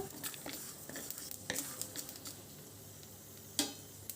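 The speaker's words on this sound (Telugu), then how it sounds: "నువ్వులు త్వరగా చిటపట్లాడతాయండి కడాయి వేడిగా ఉంది" Sesame seeds roast in a hot kadai, giving a faint, irregular crackle and sizzle with scattered sharp pops and stirring scrapes against the pan.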